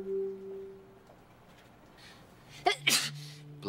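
A single close sneeze from a person with a cold, a sharp inhale followed by a loud burst near the end, after quiet tonal background sounds.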